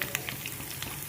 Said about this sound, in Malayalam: ഇഞ്ചി, വെളുത്തുള്ളി, കറിവേപ്പിലയൊക്കെ നല്ലതായിട്ട് മൂത്തിട്ടുണ്ട്